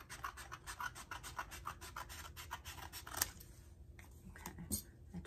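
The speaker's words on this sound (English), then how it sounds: "Take my scissors and just trim away" Scissors trim paper close by while junk journaling, giving a run of quick, soft snipping and rubbing strokes with a louder cut partway through and quieter rustles afterward.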